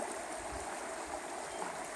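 Holcomb Creek flows with a steady, even rush of water that holds at a constant level throughout, with no voices.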